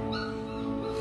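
A puppy whimpers close by in one short, thin, high-pitched whine that holds steady for about a second, with no talking over it.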